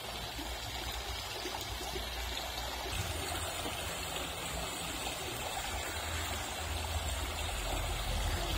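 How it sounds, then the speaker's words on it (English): A stream of water flows steadily into a mill pond in a park, a continuous soft rushing and babbling heard from close by and fairly quiet. "the sound of this water is really peaceful"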